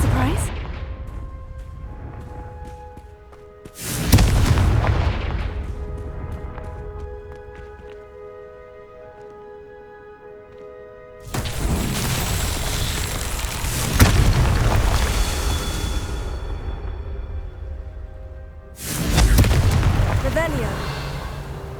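Confringo blasting-spell explosions boom in Hogwarts Legacy combat, four loud deep blasts spaced several seconds apart, each with a rumbling decay, over game music and a voice shouting spell names.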